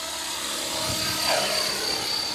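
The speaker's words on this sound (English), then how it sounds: "I actually hear a helicopter too." A helicopter passes overhead outdoors, a steady broadband rotor drone that swells slightly near the middle and holds fairly loud and continuous throughout with no talking.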